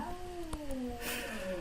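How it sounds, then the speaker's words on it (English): A cat meows with a drawn-out, wavering cry that slides downward, nearby and moderately loud against a quiet room, with a couple of faint taps underneath. "Oh man, there's a cat here."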